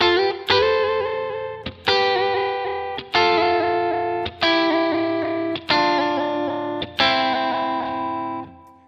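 Six distorted electric guitar chords ring out at an even pace, each one sustaining and fading, their pitch bending slightly from a whammy bar.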